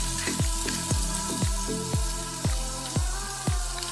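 Eight medium shrimp frying in olive oil in a pan, a steady loud sizzle with a series of evenly spaced soft thuds or stirs about every half second over the hiss.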